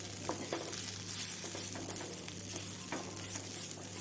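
Coconut with other curry ingredients frying and being stirred in a pan over low heat, a steady soft sizzle with scattered scraping clicks of the spoon, close and continuous, with no talking.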